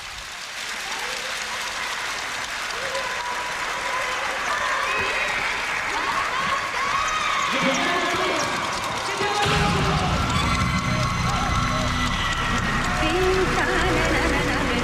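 Stadium crowd at Singapore's 2003 National Day Parade applauding and cheering for the Red Lions, a broad, dense roar of clapping and shouting that swells louder partway through and holds steady.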